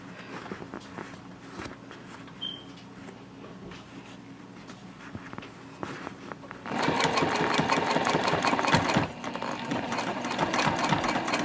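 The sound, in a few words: sewing machine stitching over a tote bag closure strap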